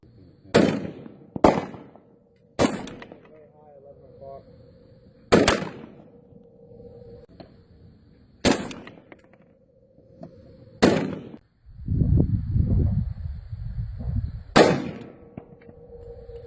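Rifle shots from a 300 Blackout AR firing Barnes RANGE jacketed zinc-core ammunition at an outdoor shooting range: about seven sharp, loud cracks at irregular intervals, with a stretch of rustling handling noise between the later shots.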